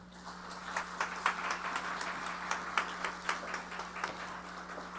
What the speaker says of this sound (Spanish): Recibimos con un fuerte aplauso a los integrantes de esta mesa.